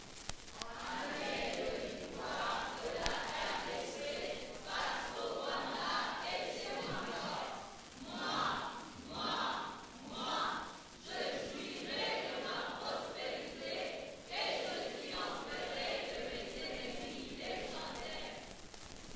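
A church congregation acclaiming the Lord in French, rhythmic bursts of many voices rising and falling together, close and lively, with speaking mixed in.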